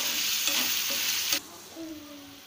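Tawa idli frying on a flat griddle with salt just added, a loud bright hiss with a few stirring scrapes that drops off sharply partway, leaving a quieter background with a faint tone.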